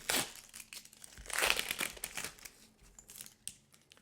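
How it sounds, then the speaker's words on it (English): A freshly pressed Cricut sublimation mug is unwrapped from its wrap, giving close, irregular crinkling and crumpling bursts that rise and fade over a few seconds. "Okay, we'll unwrap this one too."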